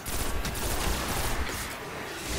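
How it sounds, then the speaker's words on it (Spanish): Gunfire crackles in the Destiny video game as a dense, continuous fusillade of overlapping shots, fairly loud and sustained throughout without clear pauses or voices. "Se están pegando más tiros ahí delante."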